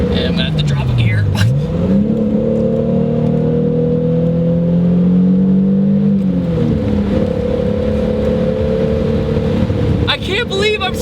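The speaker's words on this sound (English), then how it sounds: "I can't believe I'm smiling driving an all-motor Supra." A naturally aspirated Toyota Supra engine dips and then climbs in pitch as it revs and accelerates after a downshift. The sound is loud and close from the cabin, with a person talking over the engine.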